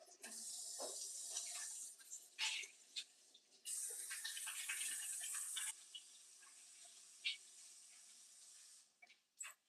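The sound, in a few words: washing hands under running tap water at a sink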